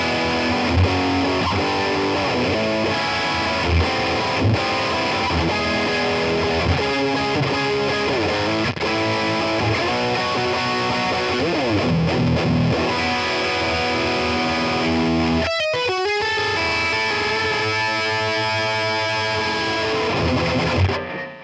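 Electric guitar played through a BOSS OS2 distortion pedal, thick and saturated with rich sustained harmonics, riffing steadily before a chord rings out and slowly decays.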